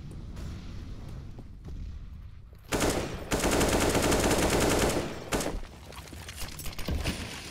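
An HE grenade blast and bursts of rapid gunfire in a Counter-Strike match on the Inferno map: steady distant shots, then a loud sustained explosive roar lasting a few seconds, followed by continued firing.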